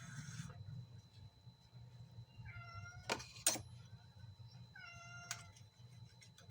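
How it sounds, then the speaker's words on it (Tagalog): A cat begging for food meows twice, a few seconds apart, each a short rising-falling cry over a low steady hum, with a couple of sharp clicks between them. "Nangihingi pa yung pusa ko. Ito, nangihingi siya ng pagkain."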